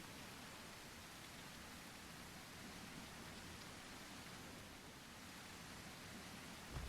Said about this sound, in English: The rain is really loud.